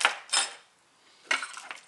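A silver fork handled close up, producing two short bright metallic clinks and scrapes separated by a quiet gap, crisp and near with no voices.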